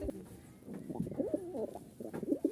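Rajshahi Giribaz pigeons coo close by, with several soft, rolling, repeated coos in a low throaty register, heard alone without talk.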